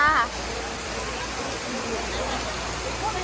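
Heavy rain pours down during a storm in Thailand, a dense, steady wash of broadband noise that fills the whole stretch without pause; a few faint whistling tones sit briefly on top.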